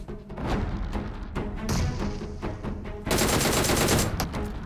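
Gunfire and a grenade blast from the PUBG Mobile video game: rapid bursts of shots crackle loudly, then a heavier explosive burst with dense gunfire follows near the end.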